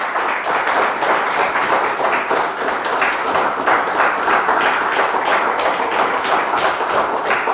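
A church congregation claps for the Lord at a Sunday service, with dense, continuous handclaps holding steady and loud throughout.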